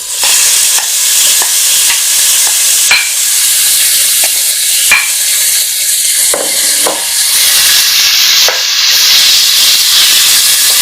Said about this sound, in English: 4 finely chopped bacon rashers, and we're going to fry them for about 10 minutes until they're golden and crisp